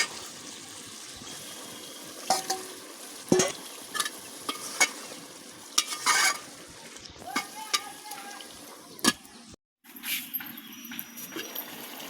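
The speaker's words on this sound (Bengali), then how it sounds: "লাউ কষানো হয়ে গেছে, এখন মাছ দিয়ে দেব।" Fish goes into a pan of sautéed young bottle gourd, producing a soft steady sizzle with scattered clinks, stirring scrapes and splashy bursts, fairly quiet and close.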